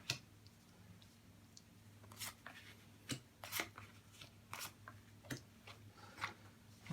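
Tarot cards are dealt and placed on a surface one by one, each giving a crisp flick or slap at an irregular pace against a faint steady hum, close by and with no voices.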